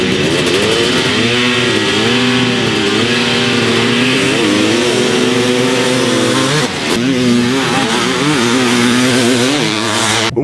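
Kawasaki KX500 and Honda CR500 two-stroke motocross bikes rev loudly and continuously on the Glen Helen track, engines rising and falling in pitch with a brief dip midway.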